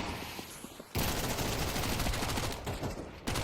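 Bursts of M4 rifle fire in the CS:GO match on the dust2 map, a dense sustained rattle of shots filling most of the clip after a short quieter lead-in, loud and close with no talk over it.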